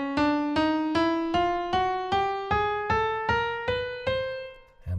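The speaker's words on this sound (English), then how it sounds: "You can create a scale out of just semitones. We call those chromatic scales." A chromatic scale climbing in semitones, nine evenly spaced plucked notes each stepping up slightly and decaying before the next, played alone at moderate volume.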